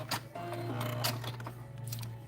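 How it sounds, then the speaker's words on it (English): A sewing machine runs a short burst of backstitching on fabric for a fortune cookie coin purse, a steady close mechanical whir with faint ticking, after a brief pause at the start. "I will backstitch this a little bit as well."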